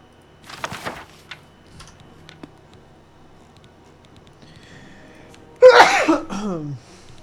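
A person sneezes once, close and loud, after a long quiet stretch with a few faint small noises during a cozy cat video game stream.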